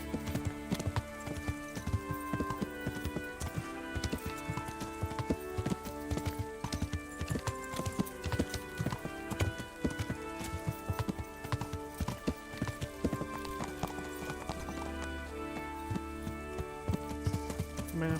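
Hooves clip-clop steadily and continuously as a horse is ridden in the medieval video game Kingdom Come Deliverance, the rhythmic footfalls sitting loud under a dense bed of game music and ambience.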